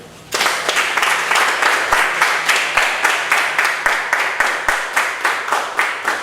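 A group claps in unison at a journalism training session in Benin, loud close claps settling into a steady rhythmic beat for several seconds.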